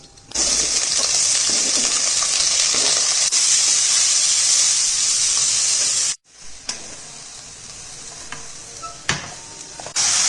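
Water, two glasses' worth, splashes into a cooking pot of paya along with cumin, bay leaves, cinnamon, cloves and pepper, a loud continuous hissing pour for several seconds, then a brief pause and quieter intermittent splashes.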